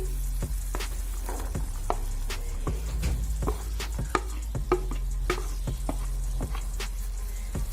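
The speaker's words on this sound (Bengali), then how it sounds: "এরপর আমি সিদ্ধ করে রাখা ছোলার ডালটা দিয়ে দিচ্ছি" Boiled chana dal going into a frying pan for a jackfruit curry, with soft wet plops and clacking spatula strokes over a low sizzle and a steady stove hum, no talking.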